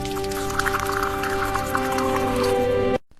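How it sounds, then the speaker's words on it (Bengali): Magic potion poured into a prince's drink in a folk tale, heard as a steady trickling liquid pour with soft drips over a faint tonal backdrop, running for about three seconds before cutting off abruptly. "সৎমা চুপি চুপি সেই জাদুর ওষুধ রাজকুমারের পানীয়তে মিশিয়ে দেয়।"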